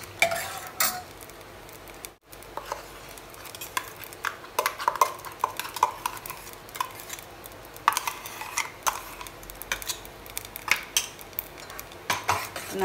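Ground spice paste is stirred into cooked white chickpeas in a pot for a chana stew. Spoon clinks and scrapes against the metal pot come in irregular bursts over a faint sizzle, quiet and close, with no talking.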